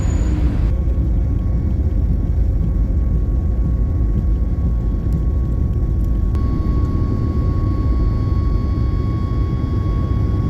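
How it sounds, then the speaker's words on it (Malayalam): A passenger jet takes off on a flight toward the Dubai/Sharjah area, heard from inside the cabin as a steady, loud engine roar and rumble that continues unbroken, with no talking. "ഫ്ലൈറ്റ് പൊന്താൻ പോവാണ്"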